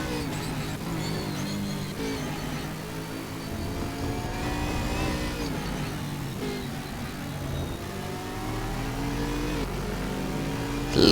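Dense field of GT3 race cars in the racing game Stock Car Extreme at the Red Bull Ring, a continuous roar of engines revving and shifting, with several cars' notes overlapping at steady loudness.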